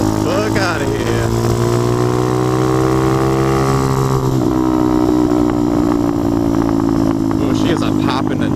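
A motorcycle's exhaust pops and shoots flames during a ride, its engine droning loudly and steadily up close, the pitch easing down after a few seconds into a rougher rumble.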